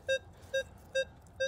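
Metal detector tone from a Minelab Manticore sweeping over a coin: four evenly spaced short electronic beeps, clear and steady, repeating about twice a second with a quiet gap between each.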